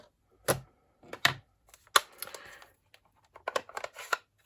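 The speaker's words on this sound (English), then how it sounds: "I'm just going to stamp these so they're ready for die cutting" Rubber stamps pressing onto card pieces for die cutting give sharp, distinct taps and knocks in an irregular rhythm. They are close and clear, with quiet gaps between strikes and light paper handling.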